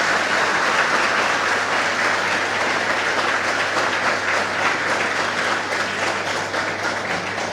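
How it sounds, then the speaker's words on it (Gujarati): An audience at a library lecture in Navsari claps for the main speaker, a thick, sustained round of applause that fills the hall and fades only slightly toward the end. "કદાચ મારે એમ નહીં કહેવું પડે કે હવે તાળીઓ થોડી ઓછી પાડશો"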